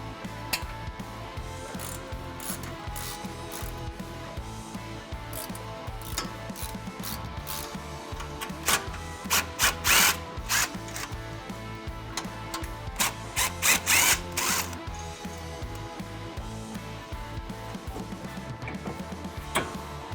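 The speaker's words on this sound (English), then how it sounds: "Using a 14mm socket on an extension, we're going to loosen up the two bolts holding this mount in now" Ratchet clicking steadily as a 14 mm socket on an extension loosens two sway bar mount bolts on a 2016-2020 Toyota Tacoma, a close, continuous rapid pawl rattle with louder clusters of clicks midway through.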